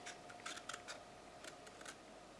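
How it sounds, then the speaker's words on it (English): Scissors make slow cuts through paper for a giraffe paper craft, a few faint crisp snips in two small clusters over a quiet hum. "put one of the blades of the scissors under the paper and one of them over, and line it up and cut nice and slow"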